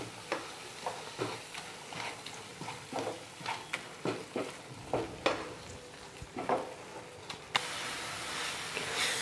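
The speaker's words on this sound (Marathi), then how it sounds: "मिक्स करून घ्यायचं चांगलं." Halwa being stirred and mashed in a pan, a series of irregular scraping and tapping strokes of the spoon against the metal over a soft sizzle, close and moderately loud, with the sizzle growing louder near the end.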